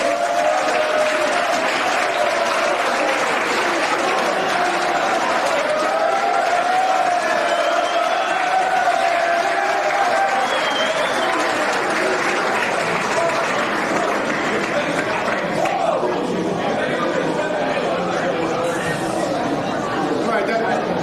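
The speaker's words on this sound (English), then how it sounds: "Please give a round of applause to Sam Zwiebel." Sustained audience applause mixed with crowd chatter fills a banquet room at a senior athletics awards dinner, steady and fairly loud throughout with voices murmuring underneath.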